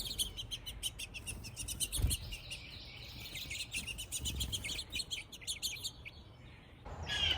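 Small backyard birds, house finches and a bluebird at a feeder, chirp and tweet in quick, busy bursts, fairly close but soft, over faint low outdoor rumble with a brief rustle near the end.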